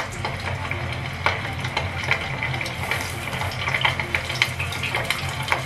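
Small whole sardines dusted in starch deep-fry in hot salad oil in a pot, giving a steady close bubbling sizzle with scattered crackles and pops.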